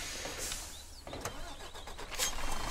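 A Peterbilt 379 truck's engine cranks and starts in a video game set on a forest accident rescue, a faint whirring crank giving way to a low rumbling idle that swells slightly toward the end, with no voices.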